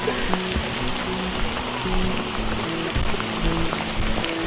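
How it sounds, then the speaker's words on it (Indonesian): Rain pattering steadily on a mountain hiking trail on the route to Mount Ciremai, a continuous close wash of drops with occasional low thumps and faint tonal hum underneath, no voices. "Hujan bro."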